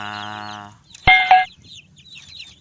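Chickens in a small backyard enclosure, a tonal call followed by two sharp close clucks, then quiet with faint background rustle.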